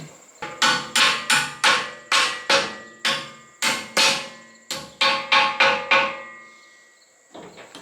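A hammer strikes a metal blade pin about fifteen times in quick, ringing blows while blades are changed, each one loud and sharp with a brief metallic ring fading after it.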